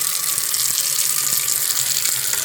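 Water runs from a tap into a bowl in a sink, a close, steady splashing stream with even loudness throughout and no voices.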